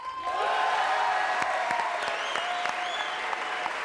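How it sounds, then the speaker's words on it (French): A crowd claps steadily and loudly for a few seconds, dense applause with no voices standing out. "Applaudissements."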